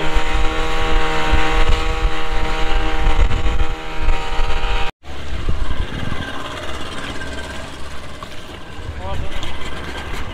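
A speedboat engine drones loud and steady with a strong tonal hum as the boat nears a jetty to anchor, then cuts briefly and gives way to rougher idling and water noise, with people talking over it.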